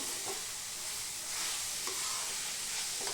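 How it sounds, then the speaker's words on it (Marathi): Carrots sauté in hot ghee for carrot halwa, giving a soft, steady sizzle with a few scraping stirs of the spoon at intervals, quiet and close. "ते बघा, गाजर असे छान परतून घेते मी आता"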